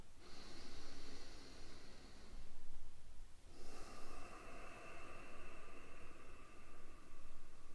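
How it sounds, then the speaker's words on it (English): Slow, deep breaths during a seated recharge practice, each long airy inhale and exhale close and noisy, repeating in a steady rhythm with no talk. "create that nice deep breathing pace for yourself"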